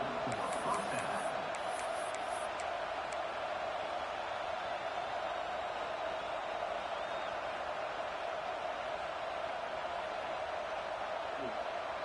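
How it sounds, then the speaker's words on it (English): Stadium crowd noise in the College Football 26 video game during a South Carolina vs Alabama match, a steady roaring wash of cheering and hubbub that holds at an even level throughout. "This crowd bringing the energy and noise early"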